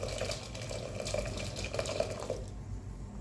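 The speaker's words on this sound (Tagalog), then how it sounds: "para mas mabilis, lagyan na natin ng tubig." Water runs steadily into a pot for rice coffee, a continuous close splashing pour that stops abruptly near the end.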